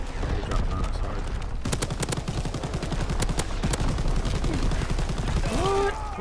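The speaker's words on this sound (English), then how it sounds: "Incoming enemy artillery. Get to cover." An enemy artillery barrage in Call of Duty: WWII multiplayer: dense, rapid bursts of sharp blasts and gunfire pound continuously with little pause, and a few faint tonal game sounds rise near the end.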